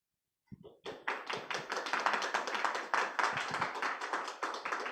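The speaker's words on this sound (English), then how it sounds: "Please give warm applause to the speakers." After a moment of silence, warm audience applause breaks out for the speakers at the close of a session at the Japan-Asia CCUS Forum 2021, quickly building into dense, sustained clapping.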